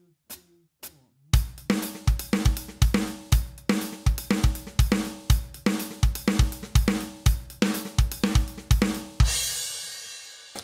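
Acoustic drum kit playing a displaced halftime snare backbeat groove: after a few soft hits, a steady repeating pattern of punchy kick and snare strokes with cymbals, ending in a washy crash.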